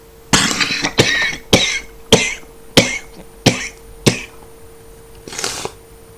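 A run of about eight harsh, evenly spaced coughs, loud and close, with a fainter final cough after a short pause.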